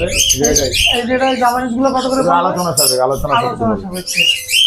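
Caged parrots chirp and squawk busily at close range at the Mirpur 1 bird market, a dense stream of shrill whistling calls from several birds together.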